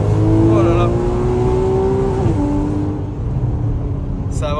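A Porsche Cayman S 981 engine drones steadily from inside the cabin, with its pitch rising and then dropping as it shifts gear. The sound stays loud and continuous, and a voice talks over it.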